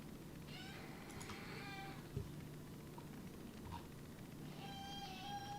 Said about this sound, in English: she has like this little weird meow